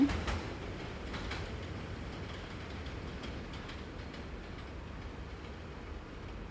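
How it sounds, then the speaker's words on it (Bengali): A New York subway train in Manhattan pulls away from the station after letting passengers off, a steady rumbling roll with faint rail clatter that stays even throughout, no voices. "ট্রেনটা যাত্রীগুলো নামিয়ে দিয়ে আবার চলে যাচ্ছে"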